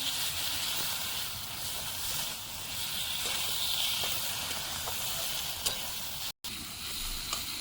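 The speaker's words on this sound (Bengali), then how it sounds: "সবগুলো ভালো করে কষে নেব" Chopped tomato and ground cumin paste fries in a pan, a steady close sizzle and hiss with faint stirring scrapes and a brief break near the end.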